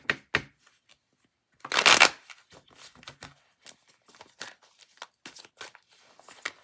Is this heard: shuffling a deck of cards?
yes